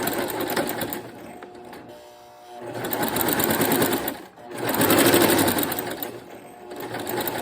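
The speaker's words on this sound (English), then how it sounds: "Put my needle back down exactly where I stopped." Sewing machine stitching binding onto a quilt, a steady mechanical whir running in two long bursts with a brief pause between, close and fairly loud with no talking.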